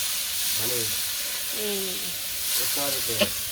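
Onions and green chilies fry in a pan with a dense, continuous close sizzle, while a voice speaks faintly in short phrases under it.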